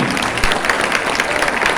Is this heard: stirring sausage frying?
no